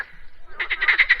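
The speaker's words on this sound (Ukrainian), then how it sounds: "Це пісня жабки скрикотушки." A frog croaks beside a pond. After a faint lead-in, a run of about seven quick, rhythmic rasping croaks comes in halfway through, close and growing louder.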